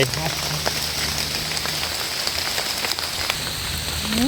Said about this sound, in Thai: ฝนตกใส่พี่น้อง